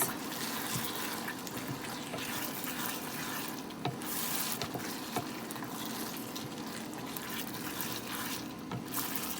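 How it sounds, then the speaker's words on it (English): Thick homemade sloppy joe sauce cooks down in a pan, a steady wet bubbling and simmering that runs unbroken throughout, with a few small pops and clicks over the top. "It'll cook all the juicy water stuff out of it and just make a thick sauce."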